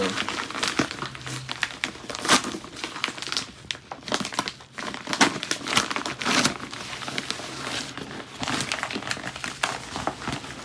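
A paper envelope from a university acceptance package is handled and torn open, giving close, loud bursts of crinkling and rustling with brief pauses between them.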